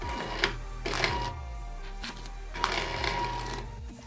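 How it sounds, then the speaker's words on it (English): Homemade cash dispenser driven by an Arduino and a stepper motor, running in repeated bursts of mechanical whirring and clicking with low buzzing pulses, close and fairly loud, with no talking. "This stepper motor is weak as hell. So let me turn up the power again."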